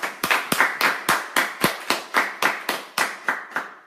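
Rhythmic clapping for Anastasia: about a dozen sharp, evenly spaced claps in a steady beat, close and clear with nothing else around them.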